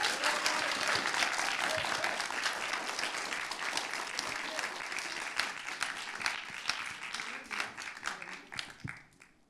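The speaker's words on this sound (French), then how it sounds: "Mesdames et messieurs, applaudissez bien fort Anne-Sophie Lefebvre." An audience at a high-school public-speaking contest applauding a jury member, a sustained burst of many hands clapping that thins out and fades toward the end, fairly distant and moderately loud.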